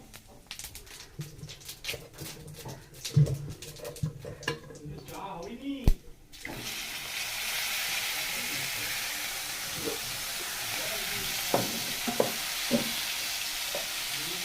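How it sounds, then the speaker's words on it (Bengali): Bay leaf and cumin seeds hit hot oil in a wok, bursting into a loud, steady sizzle partway through; before that come scattered kitchen clatters and knocks, with occasional stirring clicks over the frying hiss afterward. "কড়াইতে দিয়ে দিলাম তেজপাতা আর জিরে ফোড়ন"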